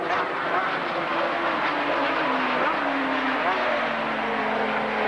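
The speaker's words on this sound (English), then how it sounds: "Haslam, bike number 5, the factory Honda." Racing motorcycles, including a factory Honda, at the 1984 TransAtlantic Trophy road race, heard as a continuous engine drone whose pitch slowly falls as the bikes pass, under crowd and ambient noise.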